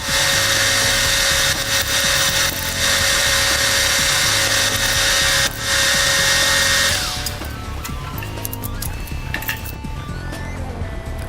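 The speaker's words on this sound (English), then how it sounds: "And also drill this end 20mm deep." A high-pitched drill whines steadily up close for about seven seconds with brief dips as it bores a 20mm-deep hole into a metal bar end, then cuts out, leaving faint clinks and workshop noise.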